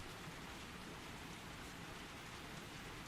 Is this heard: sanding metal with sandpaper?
no